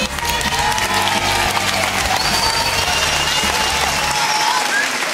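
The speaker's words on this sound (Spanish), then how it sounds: "pido un aplauso para él" Loud audience applause with some cheering at a student and guest music performance, a dense, sustained wash of clapping from a large crowd.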